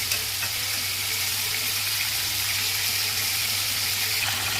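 Onions, green chillies and curry leaves sizzling in hot oil for a cauliflower curry as they cook toward golden, a steady close hiss with faint crackle and no voices.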